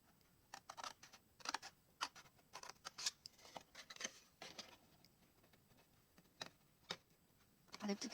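Scissors snipping paper for a folded gift box, a series of quiet, separate close cuts with pauses between them and a few faster snips toward the end, with no voice.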